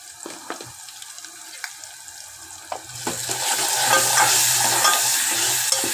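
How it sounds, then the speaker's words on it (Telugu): Mutton fry being stirred in a pan with turmeric, ginger and garlic: scraping spoon strokes and a steady sizzle that grows louder partway through, close by with no talk. "బాగా కలుపుతుంది అల్లం ఎల్లిగడ్డ పచ్చివాసన పోయేంత మటుకు"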